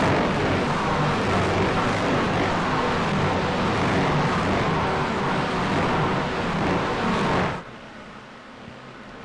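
Race cars roaring together in a pack up the S's at Virginia International Raceway, a loud sustained engine wash that cuts off abruptly near the end, leaving faint background.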